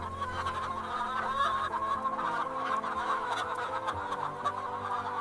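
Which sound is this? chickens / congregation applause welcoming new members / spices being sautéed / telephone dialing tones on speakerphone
chickens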